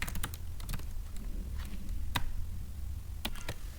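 Someone enters code on a computer keyboard, producing close, irregular keystroke clicks in short bursts with brief pauses and no talking.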